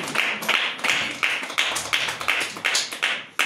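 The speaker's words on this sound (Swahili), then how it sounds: "Pigie Yesu makofi mengi ya shangwe." A church congregation claps in praise of Jesus, a steady run of loud, close claps at an even rhythm with no voices over them.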